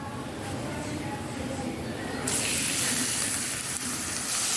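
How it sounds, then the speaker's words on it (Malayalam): Three or four chopped onions go into hot coconut oil, and a soft hiss swells into a brighter, louder, steady sizzle partway through. "എണ്ണ ചൂടായി വരുമ്പോൾ നമുക്ക് അതിലേക്ക് അരിഞ്ഞു വെച്ചിരിക്കുന്ന ഒരു 3-4 സവാളയാണിത്."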